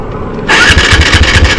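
A modified Yamaha R15 V3 motorcycle with a carburettor problem fires up abruptly after a quiet moment, its engine catching into a loud, close, rough burbling idle.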